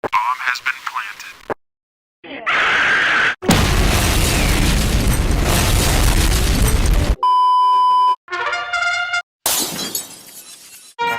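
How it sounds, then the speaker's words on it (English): Video game bomb sequence: beeps followed by a loud blast with breaking, shattering noise, sharply edited together with abrupt cuts and silent gaps, the explosion roaring for several seconds in the middle. "Bomb has been planted."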